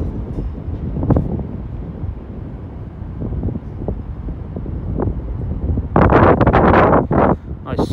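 Wind buffets the microphone on a sunny, chilly day on a platform at Cardiff Queen Street station, producing loud, gusty rumbling with louder bursts near the end.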